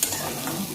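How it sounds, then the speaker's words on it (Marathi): Sago pearls (sabudana) roast in a pan alongside peanuts, making a brief, bright sizzling rustle as they are stirred, close and unaccompanied by speech. "आता ह्याच्यामध्ये आपण शाबू टाकून घेणार आहे. हे पण चांगलं भाजून घ्यायचं, मस्त भाजायचं आहे."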